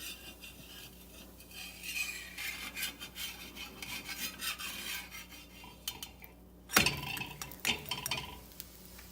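A jowar thalipeeth is turned over in a pan after cooking on medium-low gas, giving scraping and rubbing of a spatula against the pan, with one sharp clatter near the end and quieter scrapes after.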